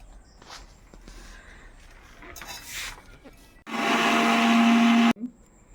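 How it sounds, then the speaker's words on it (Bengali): A mixer grinder grinding neem leaves whirs loudly for about a second and a half, preceded by soft handling and rustling noises, then stops abruptly. "এই যে মিক্সার গ্রাইন্ডার আমি এই নিম পাতাগুলোকে এখানে গ্রাইন্ড করে নেব"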